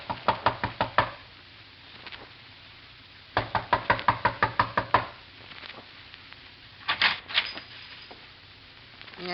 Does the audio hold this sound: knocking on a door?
yes